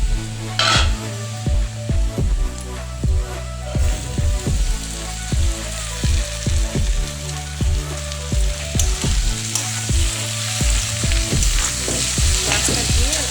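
Shrimp and tomato fry in a pan over medium heat, giving a steady, close sizzle with regular rhythmic pulses running underneath throughout.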